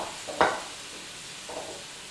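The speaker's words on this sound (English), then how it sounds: "Stir well to combine and coat that shrimp with that delicious curry paste we've made" Seasoned shrimp go into bubbling curry paste in a pot and get stirred, a soft sizzle with one sharp scrape of a spoon, then a quieter swish, close and brief.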